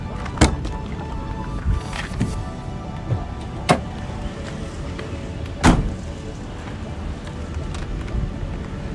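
The hood of a 1971 Alfa Romeo 2000 GTV coupe with a 2000 cc engine is opened, giving a few sharp metallic clunks and knocks spaced apart over low background noise.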